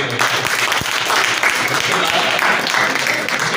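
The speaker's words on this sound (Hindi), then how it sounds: "जोरदार तालियां बजाएं" An audience at a certificate ceremony in Karachi applauds loudly, a dense sustained wash of clapping close by for a few seconds.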